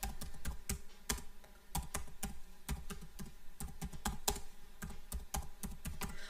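Quick bursts of keystrokes on a computer keyboard as a search is entered, close and fairly quiet clicks in an uneven rhythm with brief pauses between runs.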